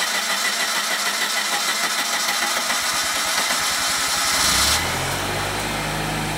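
An off-road vehicle engine cranks with a rapid starter rhythm, catches and settles into a steady, loud idle close by, with no talk.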